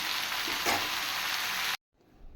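Pumpkin leaves frying in oil with already-fried potato and eggplant, a steady loud close sizzle that cuts off abruptly, leaving faint room noise.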